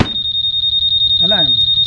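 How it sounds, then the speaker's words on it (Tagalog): A Honda Click 150 scooter's anti-theft alarm sounds a steady, rapid series of loud electronic beeps close by, with a brief voice cutting in partway through. "Dagdag sa safety features na to, may alarm ka na"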